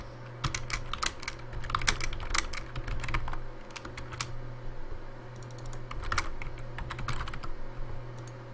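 Steady typing on a PC computer keyboard during a live gaming stream, with irregular clusters of sharp key clicks over a constant low electrical hum, close and alone without talk.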